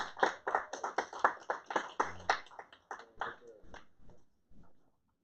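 Scattered applause from a small audience at a tech meetup: a modest run of separate, close hand claps that thins out and fades after about four seconds, with some voices mixed in.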